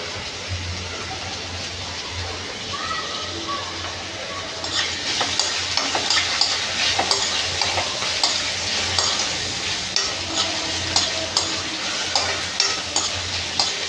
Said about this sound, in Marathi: ठेचलेलं लसूण टाकणार आहे. लसूणसुद्धा टाकणार आहे.